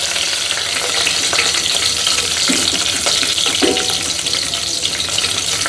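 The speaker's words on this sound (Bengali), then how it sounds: "ভালো করে তেলে ভেজে নিতে হবে" Four cloves frying in hot oil for a Bangladeshi pigeon curry, a loud, steady close-up sizzle with faint crackles and stirring scrapes, no voices.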